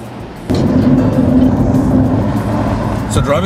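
A 1998 BMW M3 convertible with a turbo conversion making about 470 hp is driving, with a steady engine and road drone that starts suddenly and holds at an even level, heard from inside the car.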